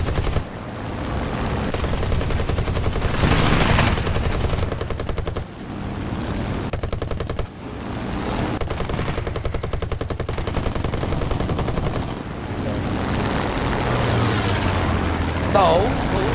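Sustained gunfire in the War Thunder video game, rapid machine-gun bursts rattling almost continuously and loudly, with engine and battle noise underneath and people talking over it.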